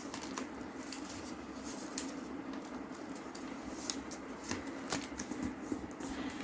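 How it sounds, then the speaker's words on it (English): Paper is folded and creased for an origami dog, making a steady, close rustling and crinkling that continues throughout with small sharp crackles and no voices. "Then we will fold the paper from middle like this way."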